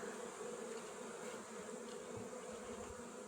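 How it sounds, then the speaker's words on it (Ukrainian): Honeybees swarming around a reed hive, a dense continuous buzz of many insects at moderate distance, steady and unbroken with no voices. "Бжоли путаються поки що трошки."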